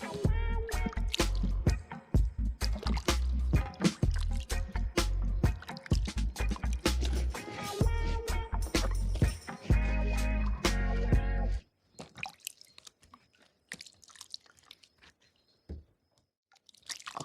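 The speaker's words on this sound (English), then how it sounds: "Alright, so I'm gonna wash the cucumbers." Cucumbers are washed in water by hand, with loud, close splashing, rubbing and dripping for most of the time, then sparser, quieter drips and handling sounds toward the end.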